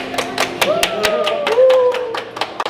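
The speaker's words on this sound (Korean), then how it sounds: "박수!" A handful of sharp, separate hand claps ring out in a bowling alley after a one-on-one match against a pro bowler, while voices talk and exclaim over them.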